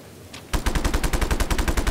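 Automatic machine gun fire in the video game Just Cause 3, a rapid, loud, evenly spaced burst of shots following a brief quiet moment.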